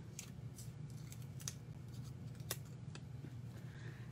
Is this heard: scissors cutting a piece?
yes